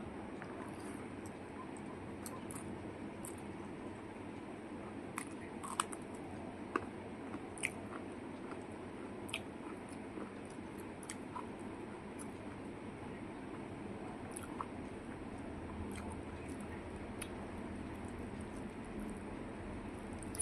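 Close, steady chewing of a Japanese puti fish, soft-fleshed with fairly hard bones, runs throughout with scattered small crunches and bites over a low background hiss.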